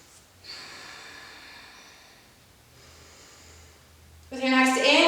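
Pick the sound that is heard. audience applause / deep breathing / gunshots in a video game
deep breathing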